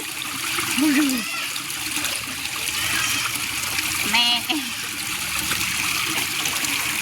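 River water flows and splashes steadily in the background while people talk intermittently over it.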